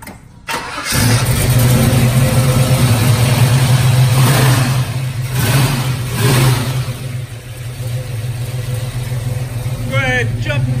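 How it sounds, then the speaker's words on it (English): A 396 V8 car engine cold-starts: the starter cranks briefly, the engine catches loudly, and it settles into a strong running rumble with a few swells in revs while people talk nearby. "What I'm going to do right here is just have my buddy Sheldon give you a cold start, hear the engine run"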